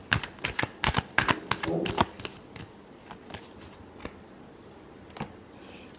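Tarot cards being shuffled by hand, a run of quick crisp riffling snaps close up and fairly loud for the first two seconds, then sparse softer taps and flicks fading into quiet.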